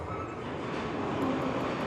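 A London Underground tube train rumbles along the track, a continuous loud roar with faint wheel squeal, close by and with no voices.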